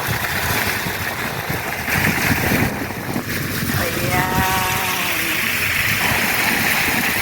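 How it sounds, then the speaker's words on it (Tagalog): Strong wind gusting past a microphone near a pipe, a loud continuous roar with buffeting throughout and a brief tonal whistle in the middle. "Ayan, malakas ang hangin, oh."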